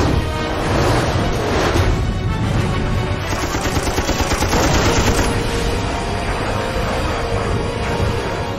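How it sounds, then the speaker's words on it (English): F-86 Sabre .50 caliber machine guns fire at a MiG in rapid, continuous bursts, a dense, loud rattling chatter over a roaring background. "50 caliber, armor-piercing, incendiary rounds slam into the MiG's aft fuselage."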